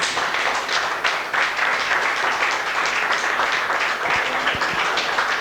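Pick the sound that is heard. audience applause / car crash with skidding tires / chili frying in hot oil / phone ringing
audience applause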